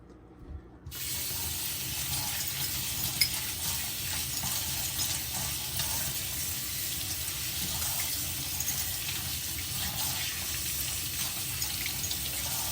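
Gold jewelry rinsed under a steady stream of running tap water, a continuous broadband splashing hiss that starts abruptly after a brief quiet moment and holds even for the rest of the clip, close and moderately loud.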